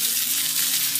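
Fish browning in a frying pan for sole meunière, a loud close crackling sizzle that holds steady across one brief second, no voices.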